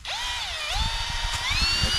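A power drill boring a tap hole into a maple tree for syrup tapping, with a steady high whine that rises and dips in pitch as the bit bites into the wood, running continuously and close by.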